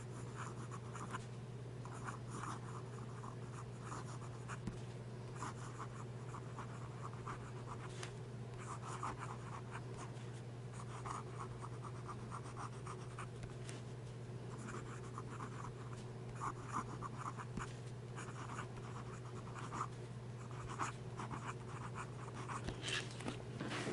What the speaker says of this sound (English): Now some fast writing.